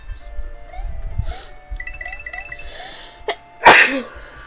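A person sneezes once, loudly and up close, near the end, after a short cough-like burst, over electronic game music and beeps from Super Mario 64.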